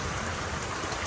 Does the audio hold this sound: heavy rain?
yes